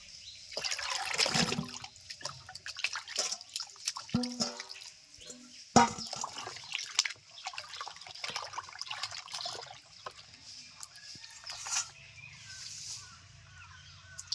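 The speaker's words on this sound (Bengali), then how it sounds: "এখন একটু ভালো করে ধুয়ে নেব" Peeled, cut pieces of ash gourd washed in a bowl of water, close splashing and trickling with knocks of the pieces against the container, irregular and moderately loud throughout.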